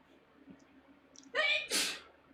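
A single sharp sneeze, a quick inhale followed by an abrupt burst, close and loud against quiet background.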